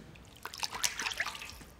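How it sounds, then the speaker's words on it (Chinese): Blanched ingredients, including ham pieces, are rinsed by hand in a basin of clean water, with soft, close trickling and splashing that comes in a short run of small liquid movements. "再加入适量的清水，将原材料仔细清洗干净备用"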